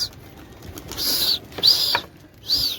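A small flock of pigeons lifts off with bursts of wing flapping, three quick flurries that are close and fairly loud over a quiet outdoor background.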